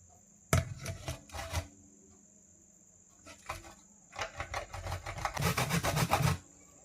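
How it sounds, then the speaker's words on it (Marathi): Carrots are grated by hand for carrot halwa. Bursts of close, scratchy rasping come in short rhythmic strokes, with pauses between them, and the rasping turns quicker and more sustained toward the end. "तर आता ते किसण्याचं काम माझ्याकडे आहे तर ते आता मी किसते"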